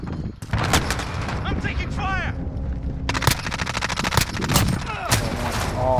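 Call of Duty: Modern Warfare firefight with rapid bursts of automatic gunfire and sharp single shots, loud and close, broken by a short pause and mixed with game sounds and players talking.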